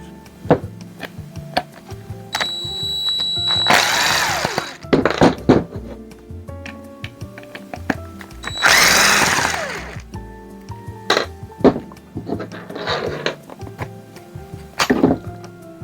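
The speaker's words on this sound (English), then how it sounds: "First step, let's remove those screws" A power tool backs screws out of a Livescope pole mount in several loud whirring bursts, broken up by sharp clicks, clunks and handling knocks between runs.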